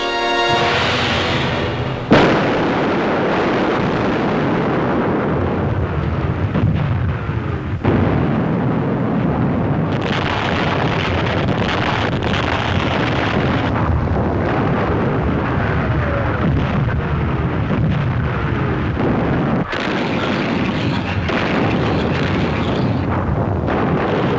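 Naval shelling and bombing of coastal beaches in wartime, a dense, loud, continuous rumble of blasts and roaring fire with a few sharp bursts and abrupt cuts, no voices.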